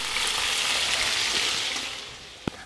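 Chicken thighs sizzle and fry in a kazan for a teriyaki dish, a steady dense crackle that fades slightly near the end, then a single sharp knock or clatter.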